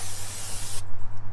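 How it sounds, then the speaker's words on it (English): Brake cleaner sprays from an aerosol can fitted with an aiming nozzle onto a car brake rotor, a loud steady hiss that cuts off abruptly just under a second in, leaving a low hum. "spray down your brake rotor"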